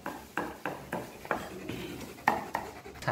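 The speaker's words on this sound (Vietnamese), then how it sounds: "chú đang băm gia vị" Knife chopping spices such as shallots, garlic, lemongrass and chili on a board for stir-fried rabbit offal with pennywort, a steady run of sharp, moderately close thuds with irregular spacing and no talk.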